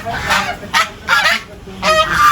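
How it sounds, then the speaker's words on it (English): Two geese honk repeatedly, several loud nasal calls in quick uneven bursts, close by over a low background hum. "No, there's no more rats, just two geese."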